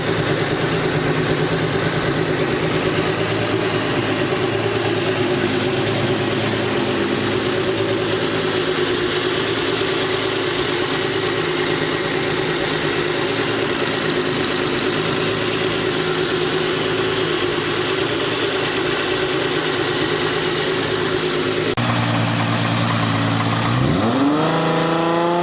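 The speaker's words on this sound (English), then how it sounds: "Volkswagen Touareg with twin-turbo W12 engine." Volkswagen Touareg carrying a twin-turbo W12 engine idles steadily for a long stretch, a smooth close drone, before a single quick rev near the end.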